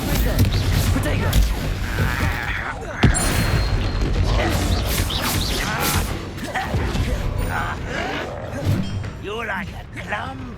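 Spell blasts from Bombarda and Confringo in the video game Hogwarts Legacy, with repeated booming impacts and crashes over busy battle effects, joined by speech throughout.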